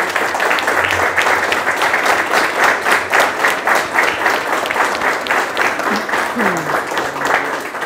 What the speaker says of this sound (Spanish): el aplauso es para las profesoras